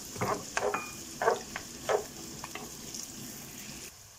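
Soft sizzling of chopped onions frying in oil and butter in a pan, with a few stirring scrapes and bursts, fairly quiet and close, with no talking.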